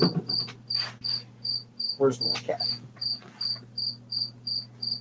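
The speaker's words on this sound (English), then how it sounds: "shutting that door didn't fix the cricket problem" Crickets chirp indoors in a regular pulsing rhythm, roughly two bursts per second, steady and moderately loud, while a person speaks briefly partway through.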